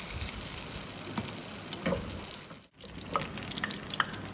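Malpua batter frying in hot oil, a steady close crackling sizzle with light bubbling and a brief dip as a spoonful goes in, then continuing to spit and hiss.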